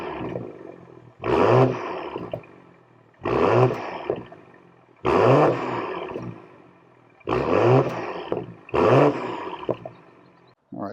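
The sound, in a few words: BMW M340i xDrive exhaust heard from outside the car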